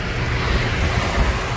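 Broadband traffic rush flowing steadily through an opened car window on the Noida Expressway at night, a continuous close roar of passing vehicles with no talk.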